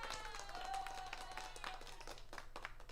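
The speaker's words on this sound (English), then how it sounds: "Mr. Josh, round of applause for that." A small group on a basketball postgame show claps for a player who hit nine straight threes. Dense, quick handclaps run for a few seconds with faint voices mixed underneath.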